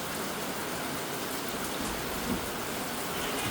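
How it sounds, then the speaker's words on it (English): Steady rain falls on surfaces during a storm, a soft, even hiss of dense drops continuing without a break, fairly faint and heard alone. "We're getting even more rain."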